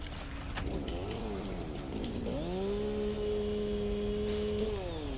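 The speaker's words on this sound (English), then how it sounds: "Probably the chainsaw to take down this tree." Chainsaw cutting down a tree in the video game Satisfactory, a steady droning engine whine that wavers and rises in pitch, then holds a constant hum over a dense background wash.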